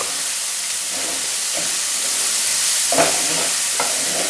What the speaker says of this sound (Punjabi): ਇਹ ਹੁਣ ਪਿਆਜ਼ਾਂ ਨੂੰ ਵੀ ਆਪਾਂ ਚੰਗੀ ਤਰ੍ਹਾਂ ਭੁੰਨਾਂਗੇ ਕਲਰ ਚੇਂਜ ਹੋਣ ਤੱਕ